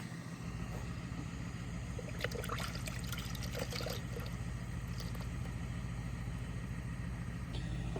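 Coolant being burped from the cooling system of a JDM Honda Fit, a steady low mechanical hum with faint trickling and gurgling of liquid throughout, plus a few brief clinks in the middle.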